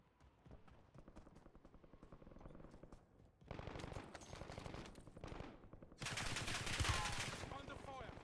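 Video game gunfire rattles in rapid automatic bursts, building into louder, denser volleys toward the end, with faint game voice cues underneath.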